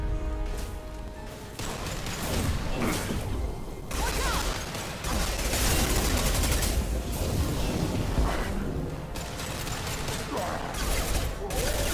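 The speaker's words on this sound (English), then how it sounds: "Firing an impact shot!" Gunfire in a video game, an impact shot fired in a dense battle, with bursts of shots and crashes running continuously over about twelve seconds, loud and busy, with game voices mixed in.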